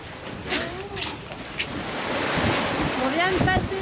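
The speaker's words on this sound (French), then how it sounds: "Il y a du vent." Steady wind over the sea off Martinique, roaring against the microphone with surf and water rushing beneath, growing fuller toward the end, with faint voices and tonal calls in the background.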